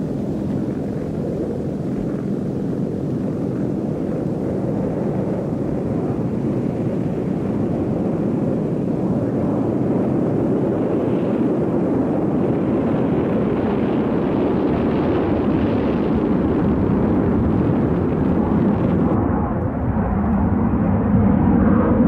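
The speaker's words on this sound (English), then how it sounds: "At exactly 8:38, the Valkyrie took to the air for the first time to begin a series of epic-making test flights." Loud, continuous jet roar of the XB-70 Valkyrie supersonic bomber taking off on its first flight, a steady broad rumble that holds for over twenty seconds with a slight swell near the end.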